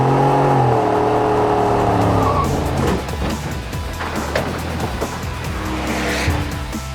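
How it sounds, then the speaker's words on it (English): A 2018 Ford F-150 pickup with the 5.0L V8 doing a burnout, the engine revving high while the tires squeal and skid loudly and continuously up close. "will it do a burnout? Spoiler alert, it does."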